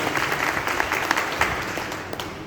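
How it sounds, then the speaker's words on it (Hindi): Audience applause breaks out at a Hindi motivational business seminar, a dense, steady clatter of many hands clapping for the full stretch, fairly loud and sustained with no voices on top. "एक बार जोरदार ताली होनी चाहिए"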